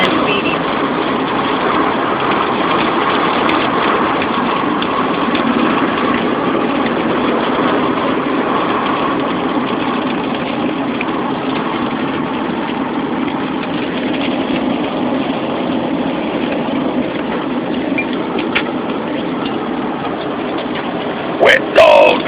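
Rain falls steadily in Red Mountain while a vehicle engine idles nearby, a constant low rumble and hiss that continues unbroken, with a brief sharp knock near the end.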